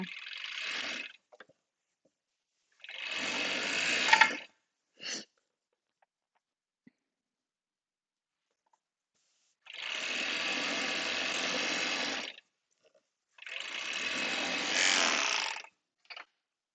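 A sewing machine runs in several separate bursts of stitching, each lasting a couple of seconds with quiet pauses between, close and fairly steady, with no one talking.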